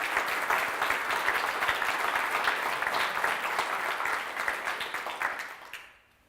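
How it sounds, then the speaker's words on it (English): Workshop audience in Western Australia gives a steady round of applause that holds evenly at moderate volume, then thins into scattered claps and fades out near the end. "really deserve a round of applause"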